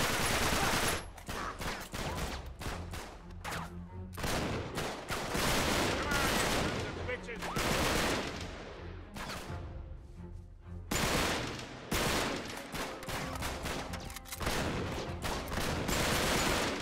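Dense, loud gunfire in the video game Uncharted 3: Drake's Deception: rapid volleys and single shots crowd together in heavy bursts, with brief lulls and game sounds between them.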